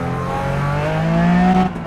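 RUF Porsche all-wheel-drive race car under hard throttle in the iRacing simulator, a steady loud engine drone climbing slowly in pitch for about two seconds, close and alone.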